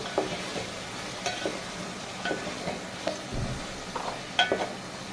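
Tomatoes stirred into a frying masala for aloo baingan sabzi, a soft continuous sizzle with repeated spoon scrapes and taps against the pan, close by and without talk.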